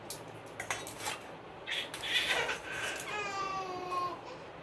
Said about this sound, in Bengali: ওকে শুয়ে দিয়েছে, ওই জন্য ও কান্না করছে